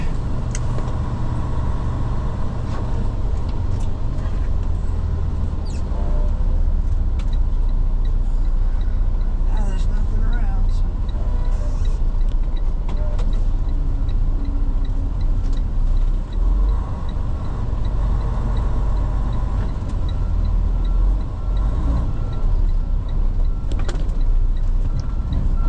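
A big truck idles and drives while pulling up to collect a load, blocking a traffic lane: a loud, steady engine rumble with road noise runs continuously throughout.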